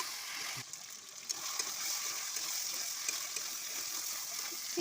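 Fried potatoes go into a chicken curry in a pan and are stirred, a steady hissing sizzle filling the background with faint scrapes and soft bubbling, moderately quiet and close.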